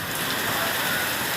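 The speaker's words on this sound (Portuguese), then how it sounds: "Chuva em São Paulo." Heavy, windy downpour in the south zone of São Paulo, a steady dense hiss of rain drumming on surfaces, loud and unbroken with no voices.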